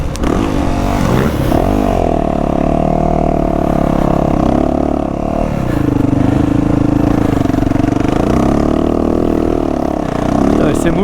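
Motorcycle ridden around a track at Magescq, its engine droning loudly and steadily close by, the pitch rising and falling with throttle changes throughout.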